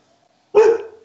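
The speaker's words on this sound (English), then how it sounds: "I guess it's a dog." A single dog bark, loud and close, bursting out of near silence and trailing off within about half a second.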